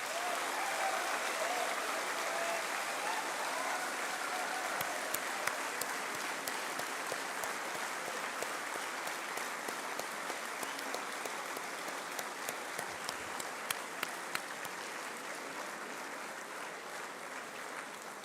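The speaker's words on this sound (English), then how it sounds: "Please give them a big, big thank you with a big round of applause." An audience at a Class of 2023 graduation ceremony in Hyderabad gives sustained applause, a dense, even wash of many hands clapping with a few sharper claps standing out, slowly tapering toward the end.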